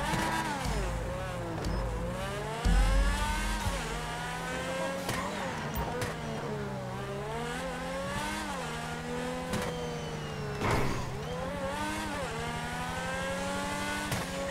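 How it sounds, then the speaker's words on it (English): A car engine in the video game GTA 5 revs and drones steadily, its pitch rising and falling in repeated waves, loud and continuous with no talking. "This car sounds pretty meaty, though."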